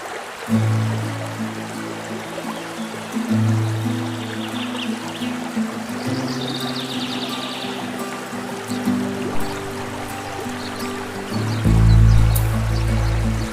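Steady rushing and trickling river water flows throughout, with a low background hum and tonal drone layered over it; no voices.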